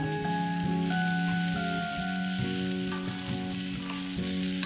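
Chopped vegetables and beans sizzle steadily in a hot pan for dosa filling, a continuous close crackle with light stirring scrapes and no talk.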